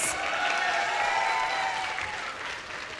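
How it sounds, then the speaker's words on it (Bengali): Audience applause after a stage duet performance, a steady dense wash of clapping from a crowd that holds strong for about three seconds and eases slightly near the end. "দর্শক মণ্ডলী জোরে একটি করতালি প্লিজ।"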